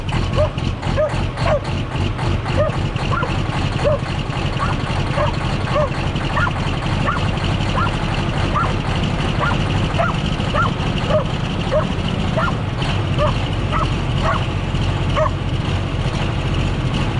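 A farm dog barking and yipping repeatedly through steady outdoor noise on a winter farm, the barks spaced in a loose rhythm at mid distance, with a person's voice briefly mixed in.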